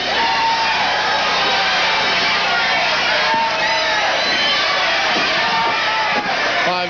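A large, loud wrestling arena crowd roars and cheers continuously during a heated match, with shouts and whoops rising throughout and no break in the din.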